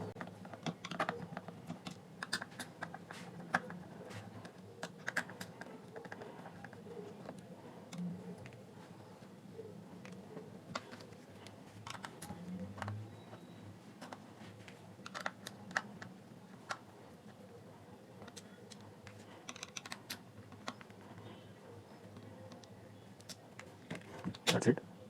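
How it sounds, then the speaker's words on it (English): Six screws being removed from a JBL Flip 3 speaker housing during disassembly, with faint scattered ticks and small clicks of the screwdriver over a quiet background, and a person talking at times. "by removing these 6 screws, this housing will come out"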